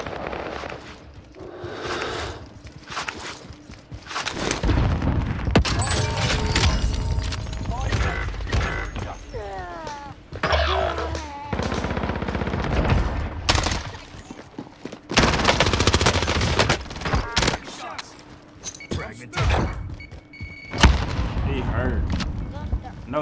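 Gunfire in the shooter game Warzone Rebirth, with players firing from a prison rooftop: repeated bursts of automatic shots and single loud cracks, heavy and close at times, interleaved with excited talk.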